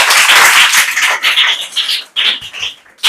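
Students in a classroom clap loudly and close by in uneven, energetic bursts that break off briefly twice before the clapping resumes.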